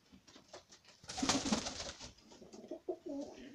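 Pigeons cooing in a backyard loft with snow on the ground, soft repeated low coos rising and falling, with a louder burst of cooing in the middle and quieter calls trailing off.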